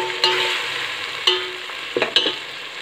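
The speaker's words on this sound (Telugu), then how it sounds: "అల్లం వెల్లుల్లి పేస్ట్ వేసి పచ్చివాసన పోయేంత వరకు బాగా ఫ్రై చేయాలి." Ginger garlic paste frying in a pan for chicken khushka, a loud close sizzle broken by a few sharp spatula scrapes and clinks, with no voices.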